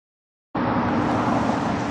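Interstate traffic roars beside a park and ride near Denver, cutting in abruptly after half a second of silence and then holding as a loud, steady broadband rush of passing vehicles.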